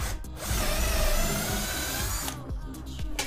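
Power drill with an 8 mm bit pre-drilling a hole in wood for bathroom ceiling work, whining steadily for about two seconds near and loud, followed by a few short knocks.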